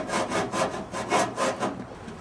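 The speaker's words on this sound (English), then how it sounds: "What I did is I first cut with the hacksaw" Hacksaw cutting with short strokes when starting a cut, about eight quick rasping back-and-forth passes in an even rhythm, close up.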